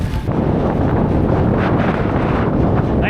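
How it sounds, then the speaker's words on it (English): Strong wind roars and buffets the microphone out on the water while kitesurfing in Utah, a loud continuous rush that fills the whole stretch without any voices. "the wind did pick up a bit"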